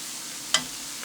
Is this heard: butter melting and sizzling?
yes